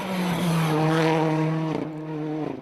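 A rally car on a stage of the Galway International Rally, its engine a loud, steady drone with a strong fundamental and harmonics that holds and shifts slightly as it passes, with no talk over it.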